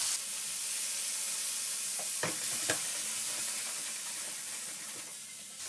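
Garlic and asparagus sautéing in a pan for a crab cake dinner, giving a steady close sizzle and hiss with a couple of brief stirring clatters, no voices.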